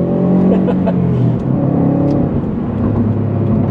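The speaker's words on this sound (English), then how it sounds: "I believe boost kicks in around three or three and a half thousand RPM. And then, I mean, yeah, it just it just goes." A 2020 Subaru WRX STi with its EJ engine pulls hard under turbo boost, a steady loud interior engine drone rising with faint whir layered on top.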